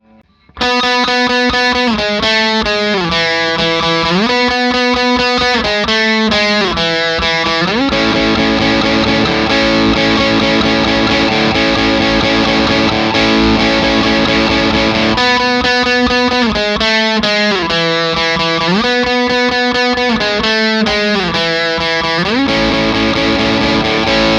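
Distorted electric guitar plays the chorus of a song, a driving chord riff at full tempo, repeating in sections with bends and sustained chords, loud and continuous.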